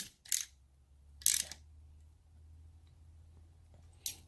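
A ratchet wrench tightens the clamp bolts on a Honda Grom aftermarket seven-piece race handlebar set, heard as three short bursts of close ratcheting clicks separated by quiet pauses.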